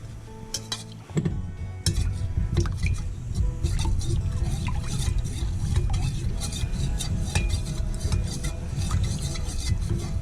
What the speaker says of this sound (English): let me stir that up